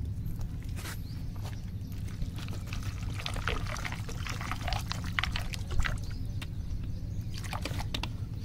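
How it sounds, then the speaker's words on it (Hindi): Water being poured into a pot for soybean rice while car camping in a camper, a continuous trickling pour with footsteps and light handling noises around it. "अब हम इसमें डालते हैं पानी"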